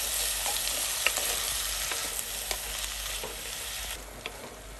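Long beans fry in a pan with a continuous soft sizzle, while a spoon stirs them and gives occasional light scrapes and taps, close and unaccompanied by speech.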